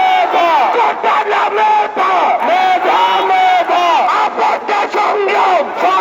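A large crowd at a political rally chanting slogans in unison: loud, rhythmic massed voices rising and falling in repeated call-like phrases, continuous and filling the space.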